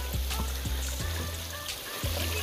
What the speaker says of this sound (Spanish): qué rico como cae la brisa en lo que es la cascada al rebotar en las piedras